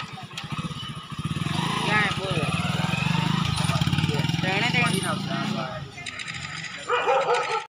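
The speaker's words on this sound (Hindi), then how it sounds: "देखो पीयूष के जितना बाइक चला रहा है" A boy rides a motorcycle whose steady low engine hum runs under loud, repeated dog barking and yelps, with people talking nearby.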